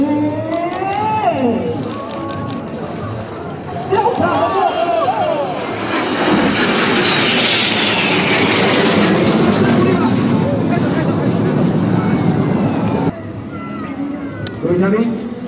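A fighter jet making a fast pass at a Hualien air base open house, a loud roaring engine swelling to a sustained blast in the middle and then fading, with a public-address announcer talking over the roar.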